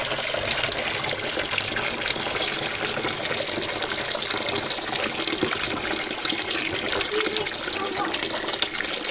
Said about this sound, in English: I've also boiled the kettle, so I can add that to it too.